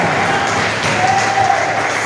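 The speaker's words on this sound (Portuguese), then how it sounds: "Agora eu convido toda a igreja a dar mais forte salva de palmas ao Senhor Jesus" A church congregation gives a round of applause to Jesus during a Portuguese-language sermon, a dense, even wash of clapping that sounds continuous and fairly loud throughout the short stretch.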